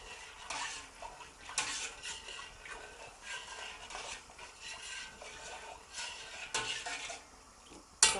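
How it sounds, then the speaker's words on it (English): Macaroni being stirred in a pot with a dash of cooking oil, giving soft scraping and light clinking spoon-against-pot sounds in irregular bursts at moderate level, with no talking. "So we'll give that a stir."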